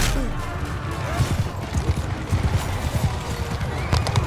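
Cavalry hooves pound in quick repeated beats in a Mount & Blade II Bannerlord battle, with loud, close impacts, clashing combat noise and occasional horse whinnies around them.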